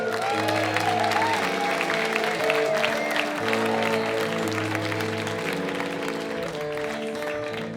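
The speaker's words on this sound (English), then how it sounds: "how about a big round of applause for your next storyteller?" Audience applause for the next storyteller at a Moth GrandSlam storytelling event, a steady wash of clapping sustained at even loudness over a low musical drone throughout.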